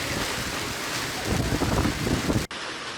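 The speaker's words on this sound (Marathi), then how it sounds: "वादळी वाऱ्यासोबतच गारांचा हा मारा नागरिकांना अनुभवायला मिळालाय" Stormy wind with a hailstorm in the Hinjewadi area of Pune, a loud, dense roar of gusting wind and pelting hail that pounds the microphone throughout and cuts off sharply near the end.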